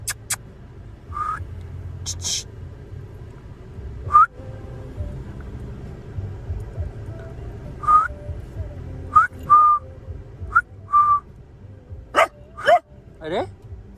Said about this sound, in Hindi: अरे भौंक क्यों रहे हो?